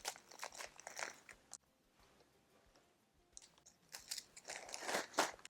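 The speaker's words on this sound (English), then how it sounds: "I'm going to break them up a bit as I'm putting them in." Graham crackers snapped and crushed by hand into a gallon resealable plastic bag, giving close, dry crunching and crackling bursts in two clusters separated by a quieter pause, no talking.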